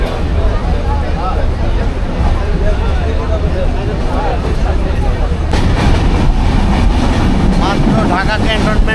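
Onboard the Ekota Express from Dhaka to Panchagarh, a loud continuous rumble of the running train fills the carriage, with rhythmic rattling and passengers talking throughout.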